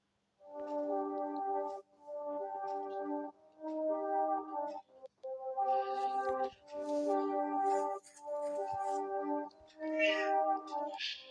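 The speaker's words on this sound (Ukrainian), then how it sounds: "кіт просився е, в кімнату. Е, кричав там під е, дверми" A cat meows repeatedly from just outside a room door, a series of long, drawn-out, fairly loud cries with short pauses between them, with no talking over it.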